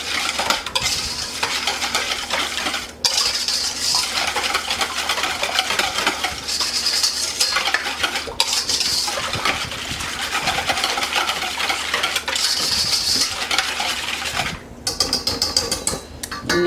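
A spoon steadily stirs nutmeg, cinnamon and sugar together in a bowl, giving continuous scraping and gritty rasping with brief pauses, close and moderately loud for about sixteen seconds, with no talking.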